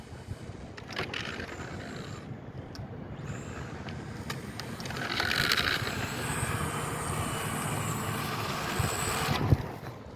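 An RC car runs flat out outdoors, a steady rushing motor roar with a brief high whine partway through, moderately loud, with no talking.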